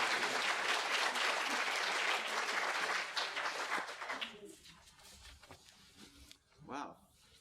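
An audience applauds warmly to welcome an author at an afternoon event, with dense, steady clapping that fades out after about four seconds, followed by a few scattered claps and a brief voice.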